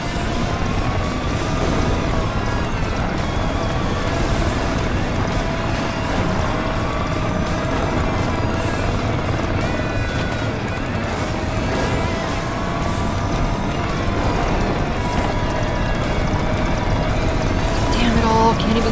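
A Lamborghini Aventador and a Sesto Elemento race in the game NFS Rivals, with loud engine roar and revving pitch sweeps throughout and a voice speaking over it.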